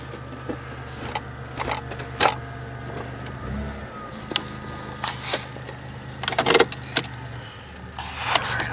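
A 1995 Chevy Lumina idles after starting, a steady low engine hum running throughout with scattered clicks and jangling rattles on top, close by.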